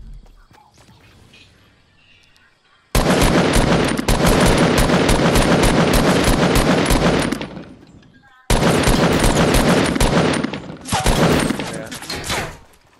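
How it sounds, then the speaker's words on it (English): Loud, dense bursts of automatic gunfire in a chaotic shooter video game firefight, rapid sustained volleys with two brief pauses, close and overwhelming. "Getting shot from behind. I'm getting shot from in front of me."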